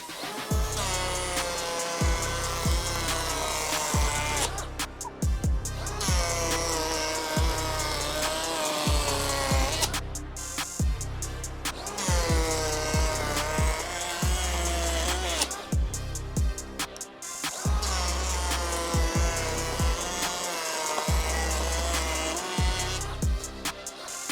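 A Milwaukee cordless power tool rips through repeated aggressive cuts back to back on the same battery, loud and continuous. Brief pauses fall between the roughly five passes.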